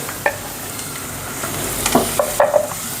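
Garlic frying in oil in a pan, a steady soft sizzle with a few light stirring scrapes and clinks toward the end.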